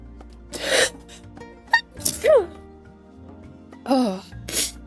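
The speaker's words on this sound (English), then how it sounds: "I have to sneeze." A single sneeze from a streamer during a holiday livestream, preceded by strained, moaning breaths and vocal sounds building up, with the sneeze bursting out sharply near the middle followed by further vocal noises.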